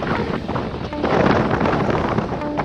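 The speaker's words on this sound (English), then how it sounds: "You hear the wind." Loud, steady wind roar buffets the microphone throughout while a cyclist rides hard up a grade in a group road ride, with gusts swelling midway.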